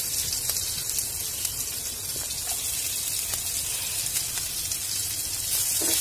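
Chopped onion sizzles in hot oil alongside okra, giving a steady, close hiss with scattered small pops and crackles throughout. No voices are heard.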